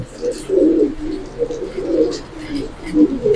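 Giribaz pigeons, including Jabra and Silver Pankhi birds, coo in a series of rhythmic low rolling bursts about once a second, close and clear, with brief talk in the background.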